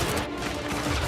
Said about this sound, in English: I got gunfire.